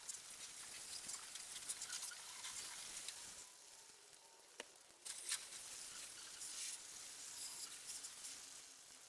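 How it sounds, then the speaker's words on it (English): Water spraying and splashing over Lexus GS350 parts to rinse off soaked-in degreaser, a steady hissing wash with a short dip midway before the spray resumes. "it's now time to rinse the parts off"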